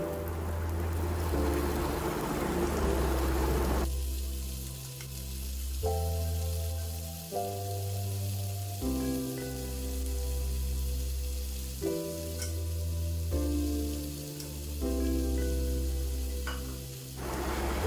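Rice and cardamom pods fry in a pot for pulao over a medium flame, giving a continuous loud sizzle and crackle that runs throughout, with a strong low hum, presumably from the stove or a fan, underneath. No one speaks.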